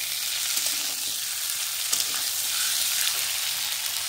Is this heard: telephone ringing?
no